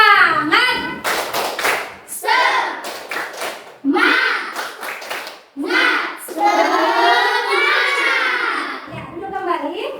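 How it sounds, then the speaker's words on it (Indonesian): A class of children standing in a classroom claps a rhythmic spirit clap, sharp bursts of hand claps in patterns mixed with loud children's chanting and voices, fairly close. "Tepuk semangat"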